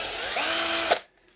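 A power drill whines steadily at close range for about a second, drilling a hole in a model truck, then spins down and stops, leaving near silence.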